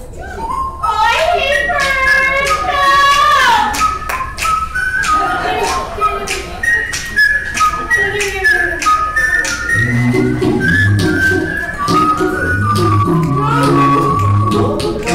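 A person whistles an imitation of a red and yellow crested blue-footed booby call in a staged comedy act, producing trilling, warbling melodic phrases. Children's voices and chatter run underneath, and lower tones enter partway through.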